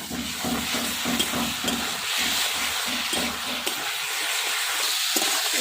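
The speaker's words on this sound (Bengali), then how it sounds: "এ দেখেন লঙ্কা দিয়ে কত সুন্দরভাবে কষায় নিচ্ছি" Fine chilli paste sizzles steadily in a hot kadai with pumpkin, stirred in a rhythmic scraping pattern for a Bengali village fish curry, loud and close with no talking.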